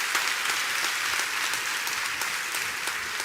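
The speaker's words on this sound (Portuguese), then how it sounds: "Dá uma salva de palmas aí" Applause from a church congregation, a continuous, fairly close wash of many hands clapping with no speech over it.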